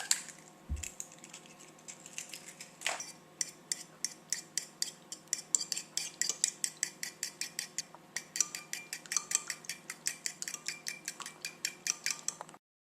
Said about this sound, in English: Crack 4 eggs into a bowl and then beat together